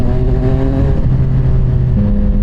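A CFMOTO 675SR-R motorcycle engine holds a steady, loud, close-up drone, its pitch stepping up slightly twice as it revs.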